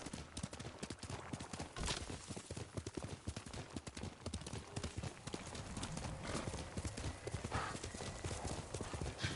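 Horse hooves clip-clop steadily in Ghost of Tsushima, a constant galloping rhythm over game ambience and effects, with occasional louder hits and a faint whinny throughout.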